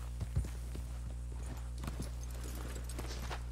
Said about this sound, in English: Let me see if I can speed my horse up.